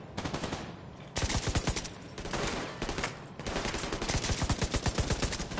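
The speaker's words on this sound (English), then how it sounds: "Oh, that's a laser turret." Laser turret in the Division 2 video game firing rapid, evenly spaced automatic bursts, loud and close, with brief gaps between volleys.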